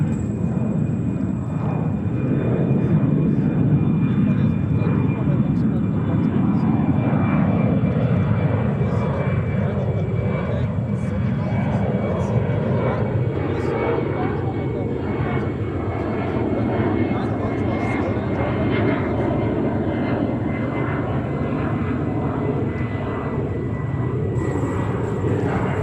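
A JetBlue Airbus A321 jet arriving at JFK airport, heard as a steady, loud engine roar and whine that holds throughout without clear rise or fade, with faint voices underneath.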